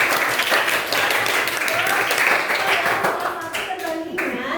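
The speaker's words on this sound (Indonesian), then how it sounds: "Tepuk tangan." Eighth-grade students in a classroom clap together in a loud, brisk burst of close hand claps that thins out toward the end, with some voices mixed in.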